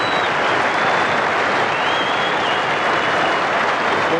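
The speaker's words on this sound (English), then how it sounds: "Applause from David Gower's England teammates in the dressing room." Steady, dense applause from England's cricket teammates in the dressing room at the Adelaide Oval fills the whole stretch, loud and sustained without pause.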